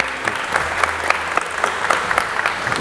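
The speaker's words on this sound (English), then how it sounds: "Guys, round of applause." An audience at a business talk on growth metrics claps in a brief, steady burst of applause, a dense patter of many hands that stays even and fairly close throughout.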